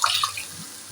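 Chickpea cooking water poured from a vessel into potato samosa filling in a pan, a brief bright splash and trickle that fades quickly, close and fairly loud.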